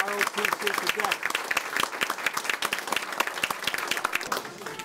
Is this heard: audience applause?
yes